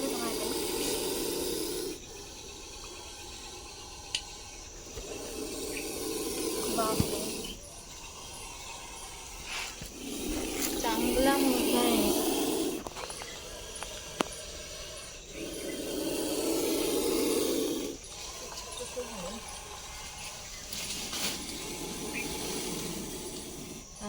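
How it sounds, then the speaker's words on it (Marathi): A large cobra with its hood raised gives long, loud breathy hisses in repeated bursts a few seconds apart, close by, with a voice talking in the gaps. "तो असा फन काढून एक आवाज करतोय बघा आणि आपल्याला भीती दाखवण्याचा प्रयत्न करतोय"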